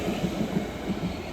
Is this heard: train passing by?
yes